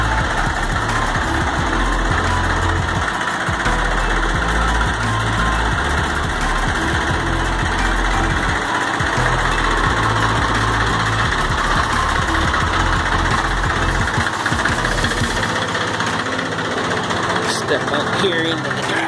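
Ford four-wheel drive tractor engine idling steadily, a loud continuous low rumble with a faint mechanical knock throughout.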